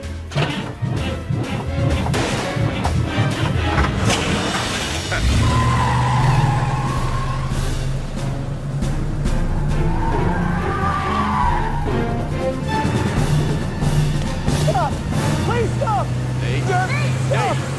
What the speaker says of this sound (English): Nate, get the car started, worry about the stash later